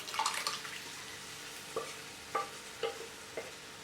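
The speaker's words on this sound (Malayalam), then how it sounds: "2-3 മിനിറ്റ് നന്നായിട്ട് വഴറ്റി കൊടുക്കണം." Spices and masala sauté in a pan for moringa leaf sambar, making a soft sizzle broken by several distinct scraping stirs of a spoon against the pan, close and fairly quiet, with no talking.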